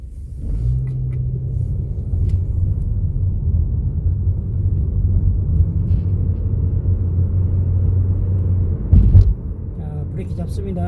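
A car on a test drive along a public road at about 60–70 km/h, checking brake fluid condition; a steady, loud low engine and tyre rumble fills the cabin throughout, with a short bump near the end and no voices.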